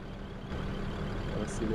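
A Scania 143H truck in World Truck Driving Simulator accelerating uphill, a steady low engine drone that rises slightly, with a short beep-like tone near the end and a voice over it.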